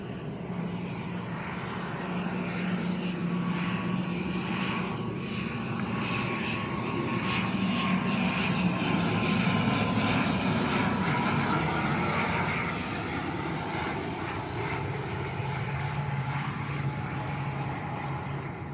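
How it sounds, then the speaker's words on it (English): A Canary Fly airliner in new livery, arriving from Gran Canaria at Lanzarote's Arrecife airport in gusty wind, gives a steady, loud engine roar that holds throughout and builds slightly in the middle, with no voices over it. "Now this is Canary Fly in from Gran Canaria."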